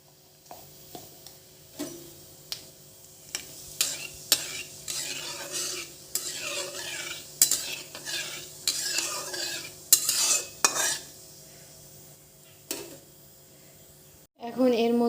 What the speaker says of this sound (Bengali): এখানে আমার তেল গরম হয়ে গেছে, এর মধ্যে এখন আমি গোটা জিরে দেব,